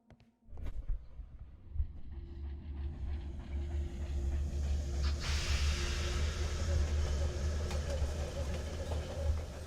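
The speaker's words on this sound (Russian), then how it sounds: "Так, вот едет наш поезд" Train passing in a Sherlock Holmes game: after a near-silent start, a low rumble swells in and holds loud and steady, with a sustained mechanical hum layered above the rolling noise.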